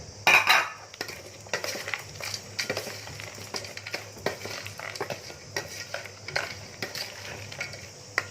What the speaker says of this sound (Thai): แล้วก็คนคลุกเคล้าให้เข้ากัน